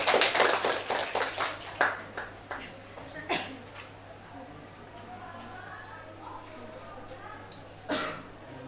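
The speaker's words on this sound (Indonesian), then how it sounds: "Tepuk tangan dong." Students in a classroom clap their hands, a brief burst of loose, uneven claps that quickly fades, followed by quiet room tone and a few scattered sounds.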